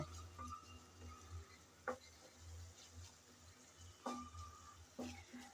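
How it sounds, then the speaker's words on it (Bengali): Spice masala is stirred and fried in a pan for a Bengali stalk curry, with soft scraping strokes and a faint low sizzle, punctuated by a few sharper clinks of the spoon against the pan. "আমি কিছুক্ষণ নেড়েচেড়ে ভালো করে মশলা কষিয়ে নিলাম"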